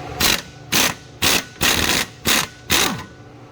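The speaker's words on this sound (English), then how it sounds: "we're gonna go ahead and ratchet all these nuts out next" A hand ratchet works loose the catalytic converter nuts on a 2013 Chevrolet Silverado, heard as six distinct bursts of rapid, dense clicking, each roughly a third of a second long, with short pauses between them, close and loud.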